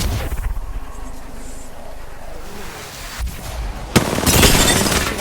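Gunfire and explosive bursts in the Apex Legends battle royale shooter, a busy, dense in-game firefight with a sharp loud burst near the end followed by sustained crackling noise.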